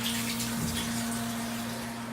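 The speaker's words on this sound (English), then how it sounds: "I'm going to utilize the hose to spray the inside of the tank and continue to rinse down" A hose sprays water inside the tank of a bottling machine, giving a steady, even rush of water over a constant low machine hum.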